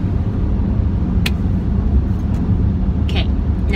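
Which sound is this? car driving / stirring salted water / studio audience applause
car driving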